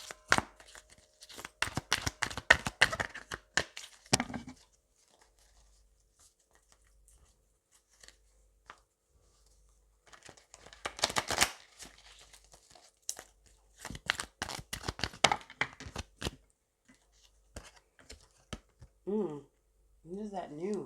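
Tarot cards are shuffled in bursts of riffling and rustling, close to the listener, alternating with stretches of a person talking and quiet pauses.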